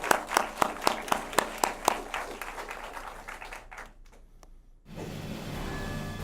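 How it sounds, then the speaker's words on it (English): At an awards presentation, several sharp separate claps come first. Then a quieter, steadier patter follows, drops almost to silence, and gives way to a constant low background hum. "Let's give them all a round of applause for a job well done"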